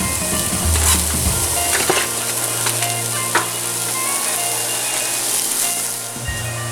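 Chopped large onion sautéing in hot oil in a pan, a loud, dense, steady sizzle close by, with a few light stirring clicks and a low hum running underneath.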